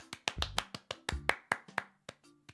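Sharp, dry hand claps or snaps in a quick irregular series of about a dozen close, crisp hits with short gaps between them, no voices.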